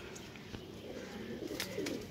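Pigeons coo softly at a rooftop loft in Gujrat, a low steady murmur with a few brief chirps toward the end, moderately distant and without voices.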